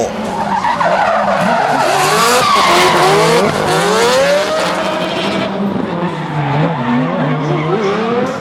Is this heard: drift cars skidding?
yes